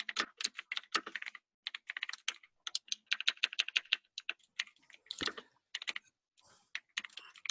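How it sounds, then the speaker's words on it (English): Someone types on a computer keyboard in a meeting, giving bursts of rapid, close clicking keystrokes with short pauses between runs and no speech. "who's typing now?"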